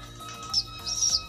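A pigeon chick gives short, high, thin peeping calls, two quick squeaks close by over faint background noise.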